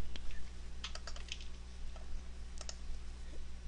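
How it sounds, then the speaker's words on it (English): Someone types a command into AutoCAD Map 3D 2011 at a computer keyboard, producing quiet clusters of quick key clicks in short bursts, with no voices. "I'll type it in at the command line."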